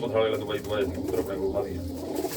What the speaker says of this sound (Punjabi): ਸੋਹਣੀ ਆ ਕਬੂਤਰੀ ਇਹ ਵੀ ਆਪ ਜਿੱਤੀ ਹੋਈ ਹੈ